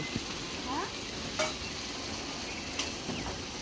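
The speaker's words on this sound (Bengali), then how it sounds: "তুমি এটা মাংসের মশলা কষাচ্ছ" Meat spice masala sizzles and fries in a pan while being stirred, with close scraping strokes over a steady crackle and a few light clinks.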